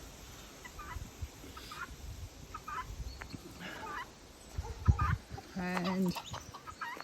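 Chickens clucking and calling in a backyard coop, scattered clucks and one louder rooster-like call near the end, with brief speech and handling noise in between.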